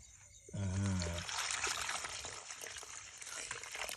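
Water pours into corn flour being prepared as an ancestral offering, a short splashy pour starting abruptly and then trailing into a softer trickle, heard close and fairly quiet.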